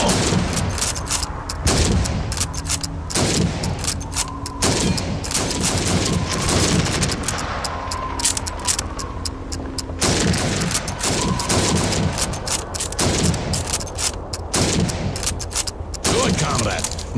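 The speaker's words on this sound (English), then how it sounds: "You have 15 seconds to shoot the helmets." Rapid rifle shots at helmet targets during a timed training drill in the Call of Duty 2 Soviet campaign, loud sharp cracks repeating every second or so against a busy background of game battle noise.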